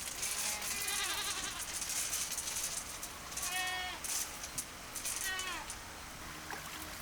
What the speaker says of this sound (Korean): 하루 종일 염소 소리가 끊이지 않는 곳, 바로 김상국 씨의 농장입니다.